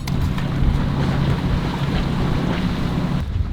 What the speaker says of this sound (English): We've got 16 knots of wind, and we're cruising along around